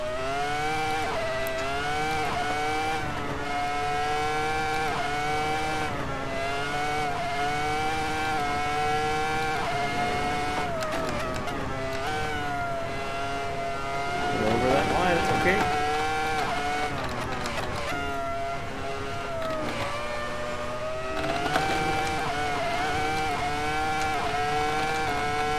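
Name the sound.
race car engine driving a lap in a VR driving sim game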